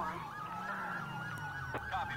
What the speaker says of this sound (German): machen wir die normale Sirene